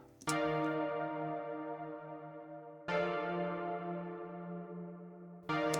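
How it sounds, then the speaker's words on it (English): An 80s-style synth plays two sustained chords, each struck sharply and then left to ring and slowly fade, the second chord entering about halfway through, clear and alone. "the last element in this area was some sort of synth"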